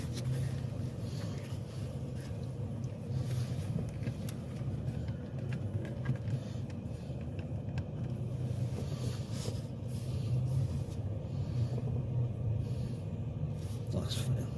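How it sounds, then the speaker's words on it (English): A car reverses slowly about two car lengths during a mock driving test, its engine a low steady rumble heard from inside the cabin for the whole stretch. "I'd like you to reverse back approximately 2 car lengths"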